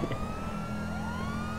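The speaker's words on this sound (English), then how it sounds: "these sirens are gonna confuse everybody" Police sirens in a video game, a steady wailing tone over a low engine rumble, slowly rising in pitch and heard close and fairly loud.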